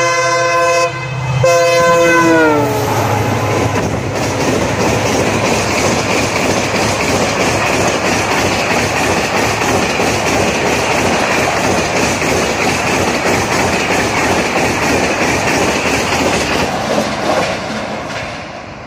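Diesel-hauled 22475/76 passenger train passing at speed: a horn blast opens, then a loud, steady roar of wheels and carriages rushes close by for the rest of the pass and fades slightly at the end.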